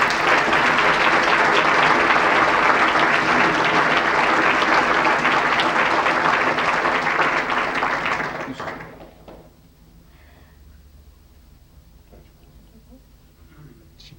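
An audience at a 2005 Iowa chamber of commerce awards banquet claps loudly and steadily for about eight seconds, then the applause fades quickly into a quiet room.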